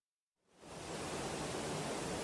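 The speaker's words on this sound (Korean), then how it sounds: "지하철역 안을 오가는 계단으로 빗물이 폭포수처럼 쏟아져 들어갑니다" Heavy rainwater gushing down subway station stairs in Tokyo during a record typhoon downpour, a dense, steady roar of rushing water that swells in after a brief silence and stays loud throughout.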